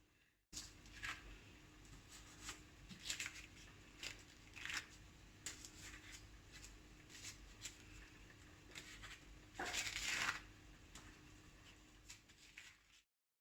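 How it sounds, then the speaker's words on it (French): A small round cutter pressed through puff pastry gives quiet, intermittent crisp cuts and scrapes, with one louder, longer scrape near the end. "Je viens donc au milieu de ma pâte et je coupe un petit rond comme ceci"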